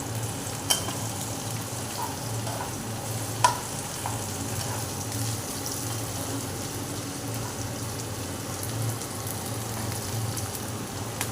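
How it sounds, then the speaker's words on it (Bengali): Carrot and beans sizzle in a pan for vegetarian fried rice, a steady hiss of frying with a few sharp clicks of stirring, close and continuous without talk. "এরপর বিনসটা আমি দিয়ে দিচ্ছি"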